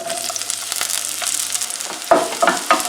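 Chopped onion frying in oil in a pan, a steady close sizzle and crackle with a few louder stirring scrapes toward the end.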